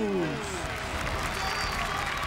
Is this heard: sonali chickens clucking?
no